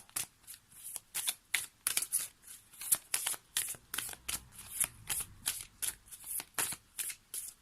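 Oracle cards are shuffled for a tarot-style reading, a quiet, close riffling repeated in quick regular bursts, about two per second, with no voice.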